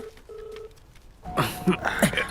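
A telephone sounds a repeated electronic tone in short bursts, followed by louder voices of people talking over it in an office setting.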